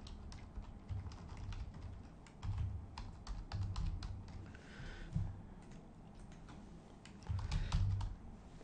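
Typing on a computer keyboard while entering a software license key, a steady close run of clicky keystrokes in bursts with brief pauses, alone with no talk.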